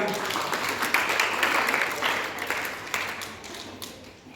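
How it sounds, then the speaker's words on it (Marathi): A school audience at a science quiz applauds a correct answer, with scattered clapping that is steady and moderately loud, and faint voices mixed in. "तिच्यासाठी टाळ्या वाजवूया."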